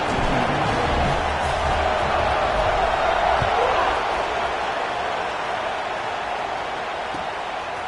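A college football stadium crowd roars at kickoff in a Florida State vs Florida game, a loud sustained wash of cheering that fades slightly toward the end, with a commentator talking over it.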